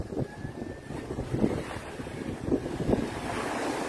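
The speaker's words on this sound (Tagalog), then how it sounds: "Ang lakas ng hangin, masarap." Strong wind buffets the microphone at a sea shore while waves wash and surge in irregular gusts, loud and close throughout, with no talk over it.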